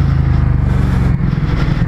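Ducati 1260 motorcycle engine running steadily on a race circuit, a loud, close, continuous low rumble with a slight rise and fall in revs and no talk over it.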